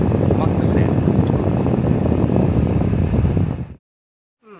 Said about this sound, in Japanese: 扇風機はマックスでいき